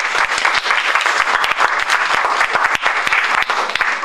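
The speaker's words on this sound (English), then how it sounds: "another round of applause for all four of our presenters today" A crowd applauds student presenters at an honor society presentation event, steady, dense clapping filling the whole stretch at close range with no voices over it.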